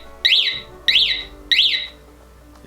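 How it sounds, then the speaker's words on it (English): Rupse motorcycle alarm giving its arming warning chirps: three short, shrill, sweeping electronic chirps at even intervals, loud and close, with nothing else sounding. "That's the warning to let people, hey, leave this alone."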